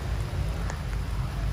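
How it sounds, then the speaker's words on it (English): Rain falls steadily outdoors on a hilly trail during a race course, a continuous soft hiss with a few brief drip accents and low rumble underneath. "it's raining again"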